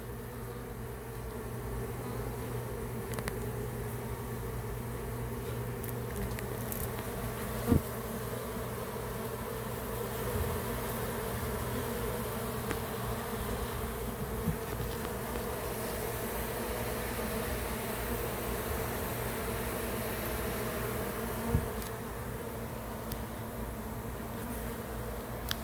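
Honey bees swarm around a newly installed beehive, a dense continuous buzzing drone that holds steady for the whole stretch, with occasional faint clicks and knocks but no talking.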